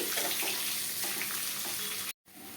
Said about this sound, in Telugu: ఈ ఆనియన్స్ మనకు మంచి కలర్ వచ్చేంత వరకు కూడా ఆయిల్లో ఫ్రై చేసుకోవాలండి